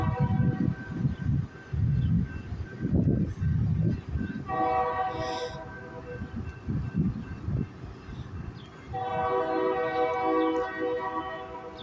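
A train rumbles past, its loud, heavy rolling noise broken by two long, sustained horn blasts, the second sounding near and strong as the cars keep moving.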